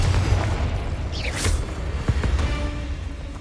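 Confringo blast spell explosion in the video game Hogwarts Legacy on PS5, a loud booming burst with a crackling tail over dense game background noise and no speech.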